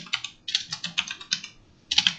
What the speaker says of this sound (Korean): 클리어 입력해도 됩니다. 타이핑해도 돼요.